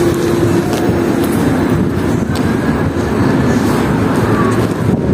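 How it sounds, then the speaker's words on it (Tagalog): Strong wind roaring steadily against the microphone, a loud continuous rumble with gusty buffeting throughout. "dito, sobrang lakas ng hangin."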